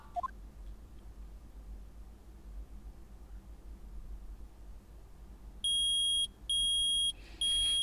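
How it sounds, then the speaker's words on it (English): Piercing electronic metal detector beeps from an Ace Attorney video game, three loud sustained high tones in quick succession after several seconds of quiet hiss. "I permit the use of the metal detector."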